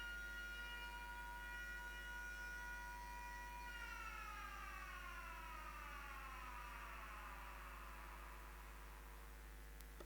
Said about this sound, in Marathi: इस प्रतियोगिता की सायरन बजती हुई